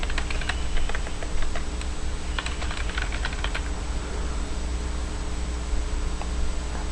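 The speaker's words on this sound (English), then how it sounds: "In here, in the next field, I will type a description of the event." Rapid, irregular keystrokes clatter on a computer keyboard as a description is typed, close and clear over a constant background hiss, with bursts of typing and short pauses.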